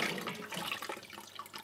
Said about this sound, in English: that'll drain all the water out of that pipeline